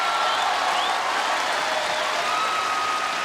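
A large tennis crowd at the 2009 Australian Open fourth-round match between Jelena Dokic and Alisa Kleybanova applauds and cheers in a dense, steady wash of sound.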